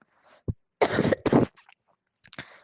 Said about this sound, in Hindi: और मुझे खांसी भी हो रही है